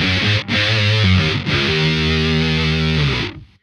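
Electric guitar played through a Submachine octave fuzz pedal with the sub bass and octave up off. Loud, thick distorted riff with sustained chords and two short breaks, ringing out alone before fading.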